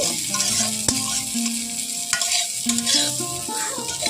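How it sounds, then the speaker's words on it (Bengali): Shemai vermicelli frying in ghee sizzles close by while a spoon stirs and scrapes, producing ringing metallic squeaks and clicks over the hiss. "আমি কিন্তু সামাইটা করে নিচ্ছি ঘি দিয়ে ভালো করে ভেজে নিচ্ছি"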